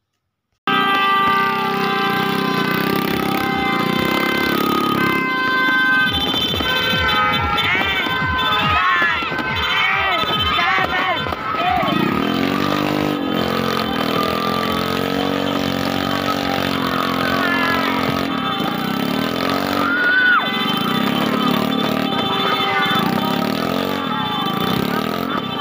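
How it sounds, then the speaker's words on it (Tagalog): Motorcycle engines rev and roar loudly at a New Year celebration, rising and falling in repeated bursts, with a crowd-like din and voices mixed underneath throughout. "ang aking kapatid ay bumarurot na ang kanyang motor upang magpaingay ito"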